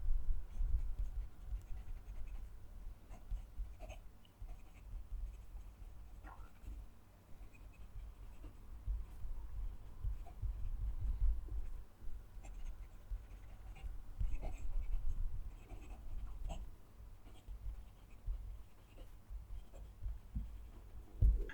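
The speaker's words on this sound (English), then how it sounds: "Let's move the mic and write the sentence." A fountain pen writes a sentence on paper, giving faint, close scratchy strokes with brief pauses between words in an otherwise quiet room.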